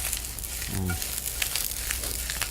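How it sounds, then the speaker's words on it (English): Mustard greens seasoned with salt and pepper sizzle steadily as they sauté in a pan, a close, continuous frying hiss with faint stirring and no talk over it. "I love sauteed mustard greens."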